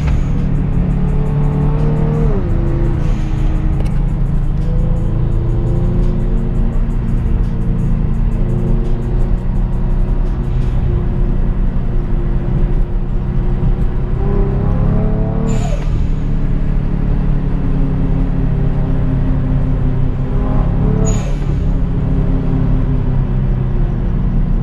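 A loud Kia Stinger engine, running fuel with high ethanol content, drones and strains under acceleration, revving up in slow, labored surges with a couple of sharp high squeals, no voices.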